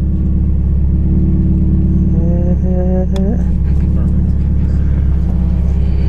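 Car taking off hard at an autocross event, a loud sustained engine roar with rising harmonic tones as it revs and accelerates, heavy rumble throughout and voices talking over it.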